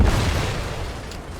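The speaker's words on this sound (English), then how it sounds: "This grenade launcher is decent at clearing out hordes of runners and hunters." A G79 grenade launcher round explodes in the shooter game Generation Zero, a single loud, deep boom that rolls off over about a second.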